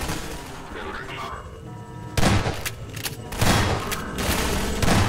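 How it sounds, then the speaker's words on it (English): Shotgun blasts in Half-Life 2: Episode Two, sharp loud broadband bursts at about 2.2 and 3.4 seconds over steady game noise and effects. "This shotgun has massive range"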